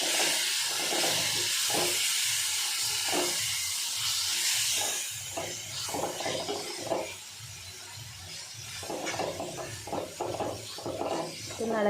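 Ground masala paste fries in a pan over low gas for a crab gravy, a loud continuous hiss and sizzle that softens partway through while rhythmic stirring thumps and scrapes pulse underneath.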